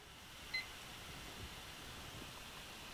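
A short, faint electronic beep marks the start of a live online auction timer, a single tone standing out against quiet room noise.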